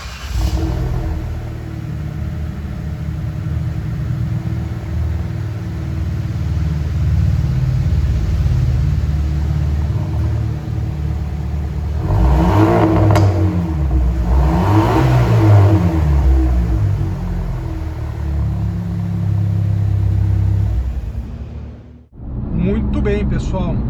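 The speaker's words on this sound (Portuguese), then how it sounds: "um ronco de escape como esse faria muita diferença" A Fiat Fastback Abarth's exhaust growls as the engine revs and accelerates, swelling loudly mid-way with sweeping pitch changes before cutting off sharply, with a person talking over parts of it.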